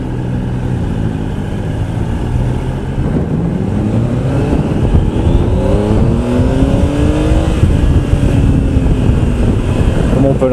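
Triumph Tiger Explorer 1200 three-cylinder motorcycle engine droning loudly while riding, with rising and falling revs through gear changes and heavy wind rush, recorded up close, with speech faintly present.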